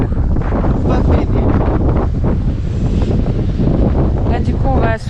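Strong seaside wind buffets the microphone in loud, continuous gusts, with a voice talking faintly beneath the roar.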